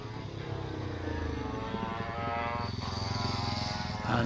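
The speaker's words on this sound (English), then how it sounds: "And Peter rounds Sawbench, heading on up towards Martini. On that lovely old Velocette of his" A vintage Velocette motorcycle at a hill climb, racing uphill with a steady droning engine that stays loud throughout and rises in pitch near the end, heard from a distance with no voices.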